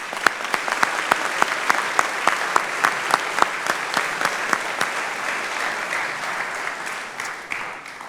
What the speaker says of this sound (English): please join me real quick and just give them a round of applause